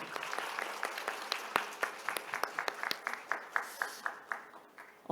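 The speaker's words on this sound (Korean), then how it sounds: "다시 한번 박수 보내주시고요" Scattered applause from a small forum audience after two speakers' talks, distinct claps at first that thin out and fade toward the end.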